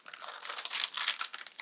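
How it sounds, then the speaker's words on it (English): Parchment paper being peeled away from vellum for a candle wrap, a brief close crinkling and rustling of paper that runs continuously. "Remove the the parchment paper"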